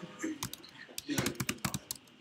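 Computer keyboard keys are pressed in a quick, irregular burst of sharp clicks and taps, close and fairly quiet, with faint voices in the background.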